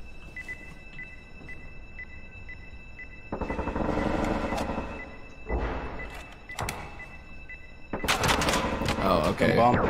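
Gunfire punching through walls in the tactical shooter game Due Process, coming in loud, dense bursts with rapid shots and impacts, separated by quieter stretches of room tone.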